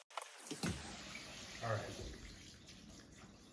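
Mushrooms are washed in a bowl in a kitchen sink under running tap water, a soft splashing hiss with a brief burst of sloshing; a person speaks briefly over it.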